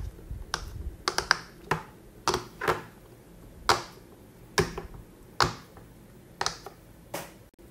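A lobster-shaped pop-it fidget toy is pressed bubble by bubble, giving sharp, close little pops spaced irregularly about half a second to a second apart, with a quiet background in between.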